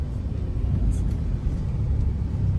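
Heavy road traffic near Puente makes a continuous low rumble of idling and creeping engines. It sounds close and steady, with a brief hiss like an air brake partway through.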